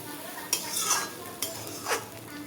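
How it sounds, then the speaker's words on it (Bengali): A metal spatula scrapes and stirs dry semolina in a pan in a few sweeping strokes, close and moderately loud with a faint sizzle underneath and no talk. "খুন্তি দিয়ে এভাবে নাড়লে কিন্তু খুব সুন্দর সুজিটা ঝুরঝুরে হয়"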